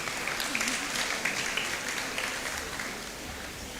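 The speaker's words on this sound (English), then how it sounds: "Please clap for him" A crowd claps together at a university orientation session on national service registration, a dense, steady patter of applause lasting several seconds and tapering slightly toward the end.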